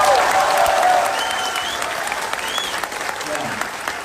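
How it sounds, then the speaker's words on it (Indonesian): Audience applause fills a campaign dialogue event, loud at first and then easing into steady clapping from a large crowd, with voices faintly mixed in. "Saya kasih tepuk tangan buat mereka semua."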